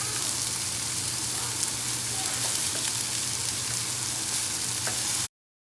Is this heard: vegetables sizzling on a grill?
yes